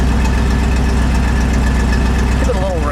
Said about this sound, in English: well, the exhaust is here.